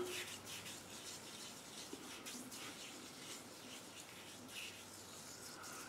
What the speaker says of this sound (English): Rub that on the old whiskers.